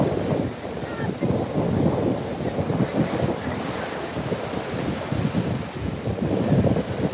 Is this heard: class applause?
no